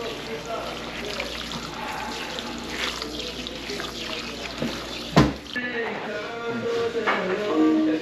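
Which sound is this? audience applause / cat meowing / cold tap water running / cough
cold tap water running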